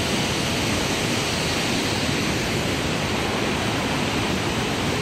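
The waterfall at Paronella Park, heard from a suspension bridge directly above it, pours as a loud, constant, full-range rush of falling water with no breaks.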